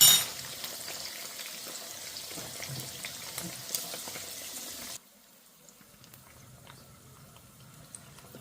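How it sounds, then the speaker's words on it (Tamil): Steady crackling sizzle of garlic frying in oil, louder for the first five seconds, then dropping to a quieter, sparser hiss. "இந்த பூண்டு எண்ணெயிலே அப்படியே வறுத்து எடுத்துக்க போகிறேன்"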